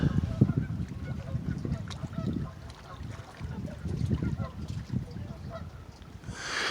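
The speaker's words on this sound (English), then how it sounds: "Can you hear the geese?" Geese honk repeatedly in the distance at a lake in Nebraska amid steady outdoor rumble, their calls rising and falling over several seconds.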